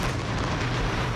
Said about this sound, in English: Every hour on the hour, they fire a symbolic cannon from the castle above Havana to mark the death of Fidel Castro.